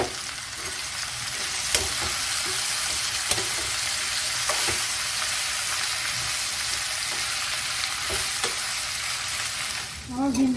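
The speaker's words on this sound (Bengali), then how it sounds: "তেলটা আমার গরম হয়ে গেছে। এবার এগুলো এক এক করে ফ্রাই করে নেব।" Okra (bhindi) fries lightly in hot oil with a dense, steady sizzle and crackle, close and alone, with a few sharp pops throughout.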